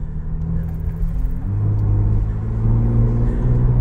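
A Ford Bronco Raptor fitted with a muffler idles and revs up, giving a steady low exhaust rumble with a deeper, louder drone building toward the end.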